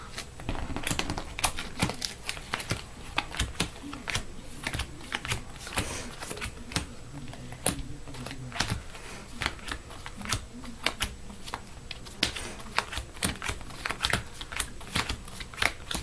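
Sleeved playing cards for the Marvel Legendary board game are shuffled in a steady stream of soft, rapid riffling clicks, close and fairly quiet, with no talk over them.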